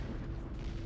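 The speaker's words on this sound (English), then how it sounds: "He says, as an explosion goes off near his face." A deep, muffled boom rumbles briefly and close by in the Mars-colony video game Planetbase, a dense low-end explosion roar lasting under a second.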